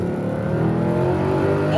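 A Mercedes C63 AMG with a welded differential accelerates on the street, its engine giving a loud, close, sustained roar that climbs steadily in pitch.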